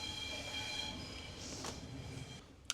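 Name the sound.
Italian train moving while being loaded onto ferry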